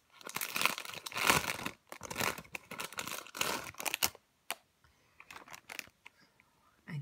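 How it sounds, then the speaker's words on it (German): A plastic bag holding lemon cake is pulled open, making close, crisp crinkling in several loud bursts, then sparser rustles and crackles toward the end. "Jetzt will die Tüte nicht aufgehen."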